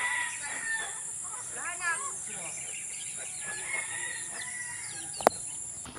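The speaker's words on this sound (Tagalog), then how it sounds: "Tapos dito yung aking mga sisiw." Chicks chirp in rapid little bursts while hens cluck and a rooster crows nearby, over a steady background hum and a sharp click near the end.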